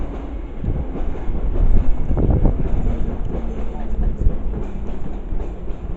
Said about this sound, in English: Train to obviously London Underground Bakerloo line terminating in from Elephant and Castle